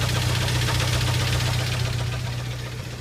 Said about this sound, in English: You can hear the little knock it's got.